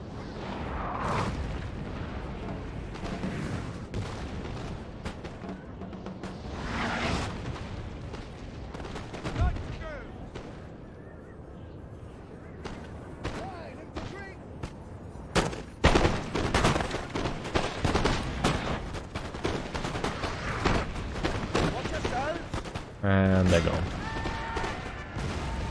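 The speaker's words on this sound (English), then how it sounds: "Actually the perfect angle for the cannons to just hit down the line with a round shot." Cannons fire round shot across the line in the Napoleon: Total War game as repeated sharp booms and crackling volleys, loud and close and scattered through the whole stretch over a steady battle din.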